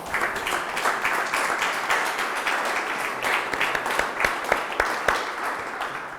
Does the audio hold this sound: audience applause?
yes